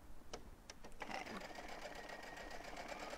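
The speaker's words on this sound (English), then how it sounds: "and then I'm gonna sew." Sewing machine stitching a fabric face mask, running in a steady continuous whir after a few short starts, close and fairly loud, with a voice talking faintly beneath.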